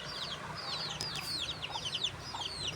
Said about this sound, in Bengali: সাথে মুরগির ছানা।